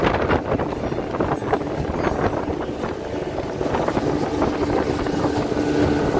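A motorboat engine drones steadily on a lake, heard from aboard a small 30 hp boat, with constant wind buffeting the microphone and water rush throughout.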